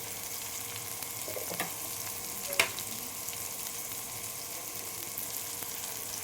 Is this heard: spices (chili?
yes